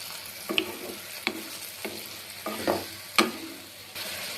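Spiced paste sizzling in a pan of fried potato, eggplant and drumsticks for a fish curry, with a steady frying hiss broken by several sharp stirring scrapes and clinks, close and alone with no talk.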